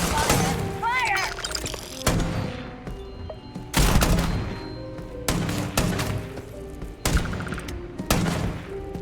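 Bursts of gunfire in the Starfield video game ring out in repeated volleys with heavy booms between them, while voices shout and talk over the fighting.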